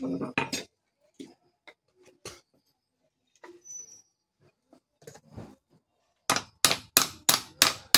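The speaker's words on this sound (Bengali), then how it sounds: "এখন সারাশি দিয়ে ধইরা হাতুর দিয়ে, ছোট হাতুর দিয়ে বাড়ি মারা হইতেছে" A small hammer strikes metal held in tongs while a tool handle is being fitted, with sparse knocks and then a fast closing run of five ringing, clanging blows close by.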